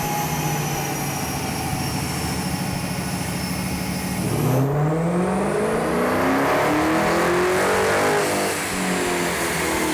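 A Dodge SRT Challenger engine roars loudly, its pitch climbing sharply as it revs up hard midway, then holding a deep, rumbling high-rev drone.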